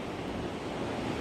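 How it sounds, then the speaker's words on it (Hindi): A cold glacier meltwater stream on the Baltal route of the Amarnath Yatra pours down in a continuous, dense, full roar, steady and close throughout with no pauses. "इतनी खूबसूरत कल कल बहती हुई है पानी। ये ऊपर ग्लेशियर से पिघल के सीधा पानी नीचे आ रहा है"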